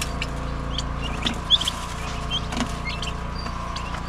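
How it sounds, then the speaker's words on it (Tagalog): Chickens clucking on a farm, with a few brief, fairly quiet calls standing out over a steady background hum of outdoor ambience; no talk. "May manok na nasama pala."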